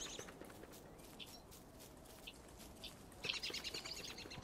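Birds chirp faintly in the video game Don't Starve Together, with scattered short tweets over quiet ambient background noise and a slightly denser burst of chirping near the end.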